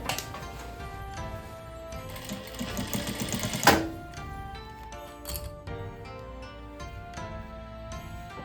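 A sewing machine stitches fabric in a steady rapid mechanical clatter, close and moderately loud, with a sharp click partway through and short pauses in the rhythm.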